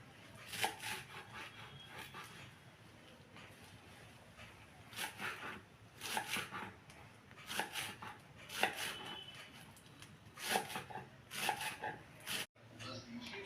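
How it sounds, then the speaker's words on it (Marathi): Washed coriander leaves being finely chopped with a knife on a board: a steady series of crisp, close taps in uneven bursts with short pauses, no talking over it. "आता मी बारीक चिरून घेणार आहे."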